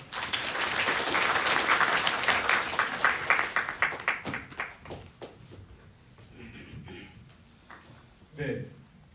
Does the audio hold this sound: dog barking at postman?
no